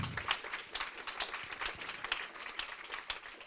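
An audience at an evening presentation claps for a guest, a soft, somewhat distant burst of applause with uneven individual claps poking through, sustained briefly at a quiet level.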